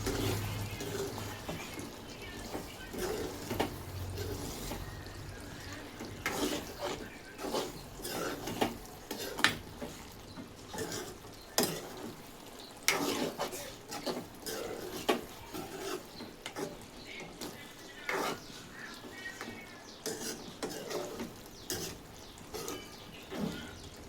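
Potato and egg curry simmering in a pan is stirred with a spoon, giving repeated scraping and clinking strokes in an uneven rhythm over a soft bubbling background, close and moderately loud, with no talking.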